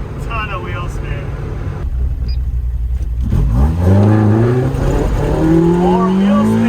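Mazda Miata M2 launching hard with heavy wheel spin, engine revving up steeply through rising pitch with tire squeal, loud and close, building after a quieter opening.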